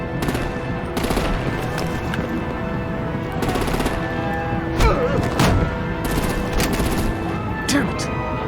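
Gunfire and artillery in the video game Batman: The Enemy Within: loud rapid bursts of automatic fire and sharp shots come in repeated volleys, with voices underneath.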